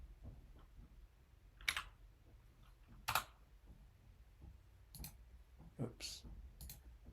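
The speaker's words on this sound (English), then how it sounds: "So I'm going to start typing" Sparse, crisp clicks from a computer keyboard being typed on, landing as scattered single taps about a second apart, close and fairly quiet over faint background hum.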